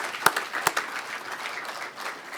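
A church congregation applauds, a soft, distant patter of clapping with a couple of sharper individual claps near the start, fairly quiet throughout.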